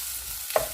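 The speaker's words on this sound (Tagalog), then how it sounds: "So, habang ginigisa natin" Vegetables being stir-fried in a pan for egg noodles, a soft steady sizzle and stirring with a brief louder scrape near the end, no voices.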